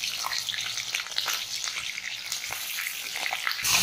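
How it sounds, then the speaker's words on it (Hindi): Chicken pieces frying in hot oil in a karahi, a steady bright sizzle with scattered crackles and pops, close and loud, no voices. "ये देखें, हमने इसमें चिकन डाल दिया तेल में"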